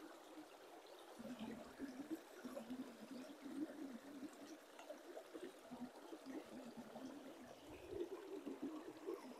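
A stream flows steadily at a confluence in northern Nova Scotia, with a continuous rushing, trickling sound close by.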